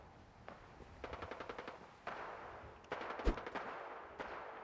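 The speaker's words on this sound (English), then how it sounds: "I hear gunfire getting louder as I go this way." Distant bursts of automatic gunfire in the Fallout wasteland, faint, rapid rattles in several short volleys with gaps between, and a single heavier thump partway through.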